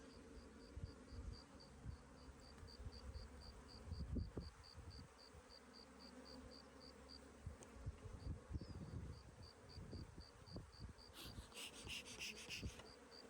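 Male drone honeybees buzz inside a hive box, a continuous close insect hum with steady droning and faint rhythmic ticking in the background.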